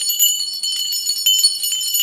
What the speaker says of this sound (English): The bells in spring.